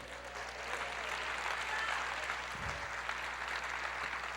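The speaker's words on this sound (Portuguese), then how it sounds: "Aplauda o Senhor, diga eu creio." A church congregation applauds in a continuous wash of clapping that stays even and moderately loud over a low steady hum, with a brief low thump partway through.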